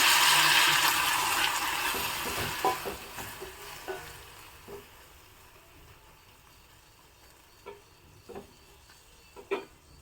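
A loud hiss and sizzle as water hits a hot pan of frying snake gourd, fading over a few seconds, followed by a few scattered stirring clinks.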